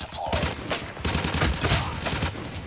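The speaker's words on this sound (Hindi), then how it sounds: "तो फायर करते जाओ" Rapid, dense bursts of automatic gunfire from a mobile shooter game's multiplayer match, firing continuously with loud repeated cracks throughout.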